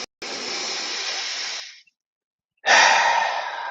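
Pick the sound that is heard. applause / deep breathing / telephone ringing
deep breathing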